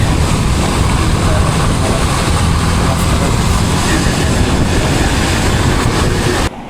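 Motorbike engine droning steadily while riding through rain and wind on a hill road, heavy wind and rain noise filling the sound and cutting off abruptly at the end.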